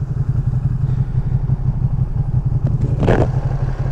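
A Ducati Panigale V2 sport motorcycle from 2023 with the stock exhaust is ridden on New York City streets, its engine making a steady, loud, throbbing drone with a brief clatter near the end.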